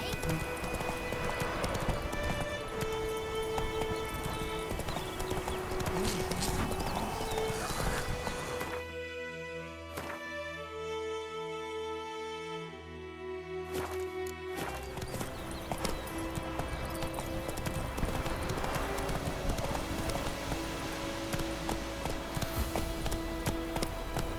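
A horse's hooves clip-clop in the video game The Witcher 3, a steady loud trotting rhythm with a whinny, broken by a brief quieter stretch midway, game music and ambience underneath.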